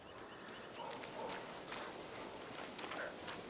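Quiet, steady horse hoofbeats clop in an even rhythm in the video game A Plague Tale: Requiem, sounding somewhat distant over a hiss of background noise.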